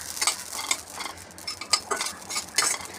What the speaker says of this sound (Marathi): खसखस एकदम आपल्याला स्लो गॅसवर भाजून घ्यायचं आहे